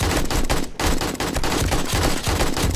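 Rapid bursts of automatic gunfire crackle continuously and loudly in the video game 7 Days to Die, with only a brief break.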